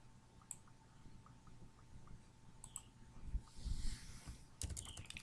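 Numbers keyed in on a computer keyboard, with a few faint, scattered key clicks followed by a quicker burst of typing near the end, quiet and close, no voices.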